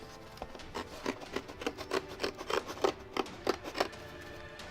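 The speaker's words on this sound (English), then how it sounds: "I can't cut straight lines with scissors." Scissors cut in a quick series of crisp snips, about a dozen close rhythmic strokes, with no voices.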